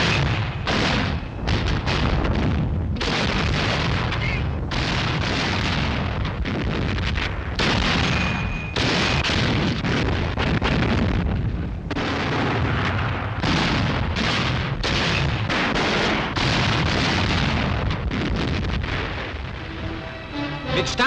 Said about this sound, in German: Erkannte Panzerbereitstellungen des Feindes werden von Artillerie und unseren Panzern unter Beschuss genommen